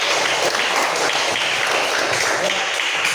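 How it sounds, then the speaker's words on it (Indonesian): Schoolchildren clapping for everyone in a classroom lesson, a loud, close, ragged patter of many small hands with individual claps standing out, steady for a few seconds. "tepuk tangan untuk kita semua"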